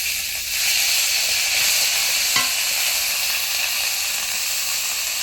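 Ground ginger paste frying with tempered spices and turmeric in a pan, a dense steady hiss of hot oil that holds evenly throughout, with one faint clink partway.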